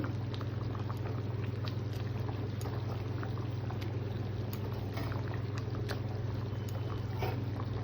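A pot of food on the stove bubbles in a steady, continuous boil, with a low hum underneath and occasional small pops and splashes at close range.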